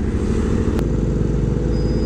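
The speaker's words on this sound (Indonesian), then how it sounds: "Tapi yang makin gue suka sih suaranya, pakai knalpot Resfit" An Aprilia RSV4 RR motorcycle with an aftermarket Resfit exhaust idles close by, giving a deep, throbbing, steady rumble.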